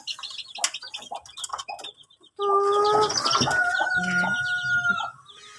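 Chicks from a cross of Rhode Island Red and Basilan chickens peep and cluck close by, with shrill, sustained chirping rising in the second half and a crowing rooster mixed in among the scattered calls.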